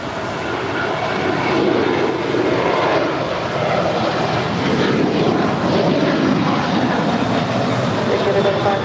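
Airliner jet engines at LAX on runway 25 right, heard as a steady, loud, broadband roar that holds unbroken throughout with no clear pauses.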